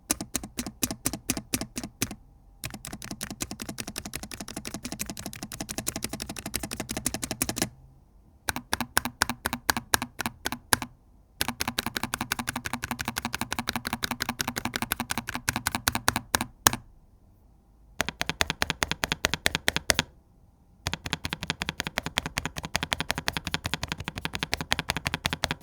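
Typing on a Newfie Node 75 mechanical keyboard fitted with red switches. Bursts of fast, crisp keystrokes run in dense runs, broken by a few short pauses, close and clear with no talking.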